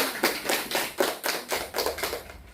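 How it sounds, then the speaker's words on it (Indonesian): A group clapping in fast, steady bursts, a short round of applause with a slightly uneven rhythm, fairly close and moderately loud, in a school religious class. "kita berikan tepuk tangan untuk Tiana."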